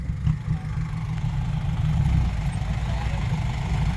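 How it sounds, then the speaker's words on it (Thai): A tractor's low, steady engine rumbles nearby as it pushes a stuck vehicle, idling and straining at a constant pitch with a faint rise and fall, no voices over it. "รถไถดันตูดด้วย"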